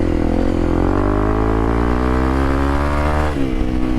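Loud, close dual sport motorcycle engine and exhaust droning steadily on a dirt highway, pitch rising as it revs, then dipping and climbing again after a gear change.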